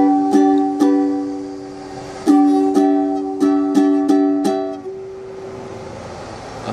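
Up close, a ukulele picks out a song as a run of evenly spaced plucked chords that ring and then fade into a soft tail, with nothing else audible.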